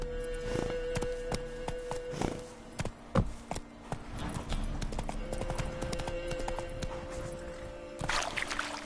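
Hooves clip-clop steadily as Geralt's horse Roach gallops in The Witcher 3, a brisk repeated rhythm of sharp hoof strikes over low game ambience and tones, continuous and moderately loud.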